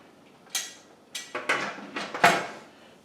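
Pressure canner lid being set on and twisted to lock, giving about six sharp metallic clanks and scrapes in quick succession, close and fairly loud over a quiet background.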